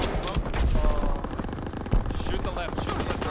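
Rapid automatic gunfire and scattered shots in Call of Duty: WW2 multiplayer, dense and continuous throughout the clip, with a player talking over the shooting.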